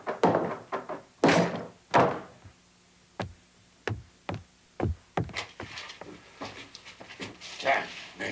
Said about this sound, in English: Then we'll just have to break the door down, won't we, miss?